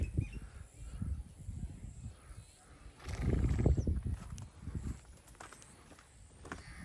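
A restless mare moving about near a house, with irregular thudding hoof falls and shuffling on the ground and a louder burst of movement in the middle, while people talk over it.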